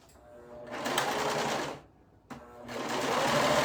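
A sewing machine stitches the long edges of a dress in two close, whirring runs, the needle's rapid chatter broken by a short pause between them.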